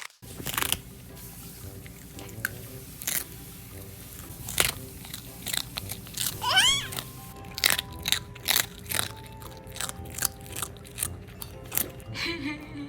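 A dog crunches and chews a treat at a dog training centre, with irregular close bites and crackles repeating for several seconds, faint and free of speech.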